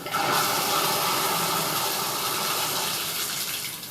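Cold water gushes steadily from a bathroom tap into a basin, a continuous broadband splashing rush that carries on evenly from start to finish.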